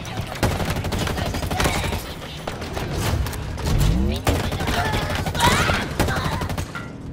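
Rapid bursts of gunfire in the video game Halo Infinite crackle repeatedly over several seconds, loud and close, with occasional heavier booms mixed in.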